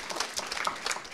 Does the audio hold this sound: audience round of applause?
yes